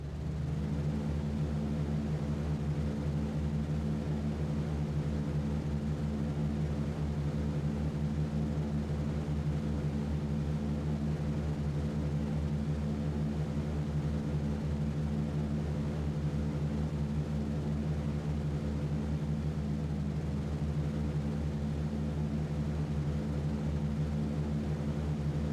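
Engines of a B-17 bomber drone in a flight game, a steady, unbroken propeller roar that holds at constant loudness with no voices.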